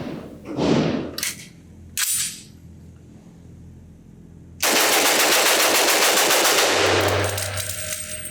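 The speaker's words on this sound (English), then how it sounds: "I gotta do a quick mag dump before we move on to the subsonic ammo test" Rapid burst of fire from a B&T APC300 .300 Blackout pistol at an outdoor range: a few separate shots, then a sustained rapid string of gunfire lasting several seconds, loud and close.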